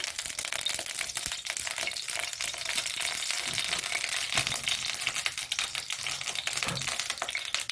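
Oil heating in a hot pan while making pudina rice, a continuous close crackling sizzle with fine spitting pops throughout.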